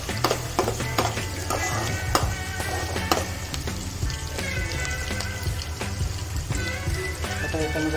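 Chopped onions frying in a pan while a spatula stirs them, a steady close sizzle broken by frequent scraping clicks and taps against the pan.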